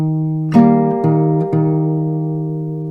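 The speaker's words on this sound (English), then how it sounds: "And then we have the C. This part sounds like this." Guitar plays the C section of a riff, with three or four plucked notes that ring and overlap, close, clear and unaccompanied.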